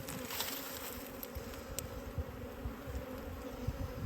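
Honey bees buzz in a steady low drone around a new beekeeper's hive on a farm, with a constant busy hum and no talking.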